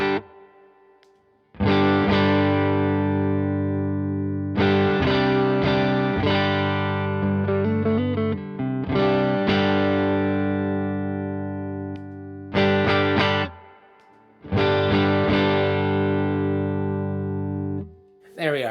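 Electric guitar run through a Donner Dumbal overdrive pedal adds a little grit, heard alone as strummed chords and short riffs in several loud bursts separated by brief pauses, with notes ringing out between phrases.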